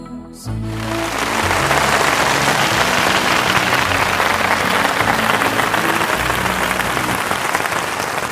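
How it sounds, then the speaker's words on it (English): Heavy rain comes on suddenly and keeps falling in a dense, constant hiss of pattering drops, loud and close, with a low rumble beneath. "rain began to fall"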